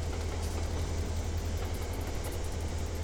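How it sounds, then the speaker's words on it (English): A locomotive prime mover runs in the Trainz railroad game, a steady low rumbling diesel drone with a hissy wash over it, constant and moderately loud with no talking. "Your prime mover doesn't sound too good."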